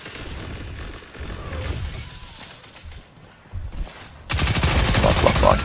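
Submachine gun fire in the shooter game Destiny 2, bursts of rapid shots under game noise, growing denser and louder in the final second and a half.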